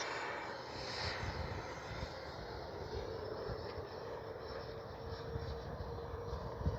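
A Freewing MiG-29 Fulcrum twin 80mm electric ducted-fan RC jet makes a pass with its gear coming down, a steady roaring whine holding throughout at moderate distance.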